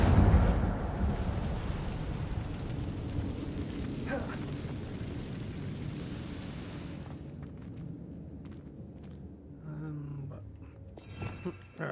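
An Incendio fire spell cast in Hogwarts Legacy bursts out as a loud, roaring fiery blast, holding for several seconds before thinning away, with quieter scattered crackles and faint background game sounds after.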